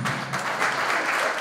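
Applause from a gala audience, a brief burst of many hands clapping at a steady, fairly loud level, with no voices on top.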